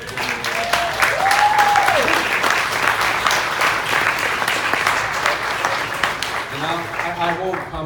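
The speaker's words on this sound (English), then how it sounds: "I just got to give you guys a round of applause for that." Audience applause fills the room, loud and steady throughout, with cheers and whoops rising over the clapping and a voice calling out briefly.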